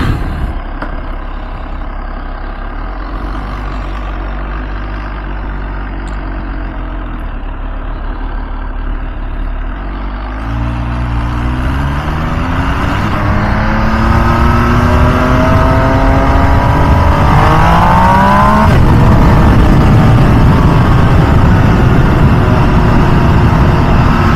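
A 2023 MV Agusta Dragster 800RR motorcycle in race mode pulls away from a low idle and accelerates hard through rising revs, its loud engine note climbing steadily close to the rider, with no talking.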